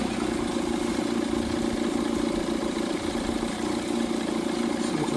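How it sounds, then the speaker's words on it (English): A used outboard boat motor runs steadily at idle after starting on one pull, a continuous mid-pitched engine drone that stays even and fairly close with no voices. "See it's running, started right up, one pull, running good, idling good."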